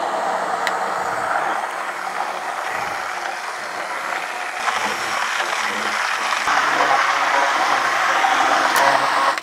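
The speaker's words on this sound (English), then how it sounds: "Now we're gonna just take a handheld mixer here" A handheld immersion blender whirs steadily through birria chili sauce, a continuous close motor drone with a churning, slightly rising tone that cuts off abruptly at the end.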